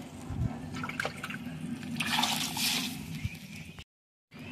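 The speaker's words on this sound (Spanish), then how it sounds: "lo voy a echar aquí mismo en el vaso de licuadora para enjuagarlo" Water pours and sloshs into a blender jar to rinse it in a home kitchen, a steady gurgling fill lasting a few seconds before cutting off abruptly.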